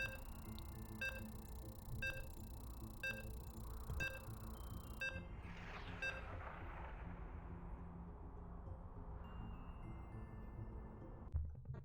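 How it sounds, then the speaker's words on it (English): Regular electronic beeps sound about once a second while a StarCraft match loads, five evenly spaced tones followed by a rumbling burst and fading noise, then a sharp click at the end. "So you can hear the beeps."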